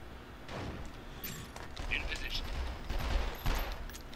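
A few scattered sniper-rifle shots in the PlayStation 2 game 24: The Game, single sharp cracks spaced seconds apart over a low rumble, with someone talking throughout.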